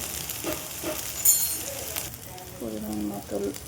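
A cumin and mustard paste, with ginger and chilli paste, is stirred in a pan for a Bengali bata fish dish, heard as a soft, low sizzle with a few scraping stirs and some faint clatter, no talk.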